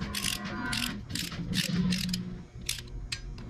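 Ratchet clicking through a short run of strokes while bolts are tightened on a Duramax diesel engine during a rebuild, steady close-up metallic ratcheting with brief pauses and faint background noise.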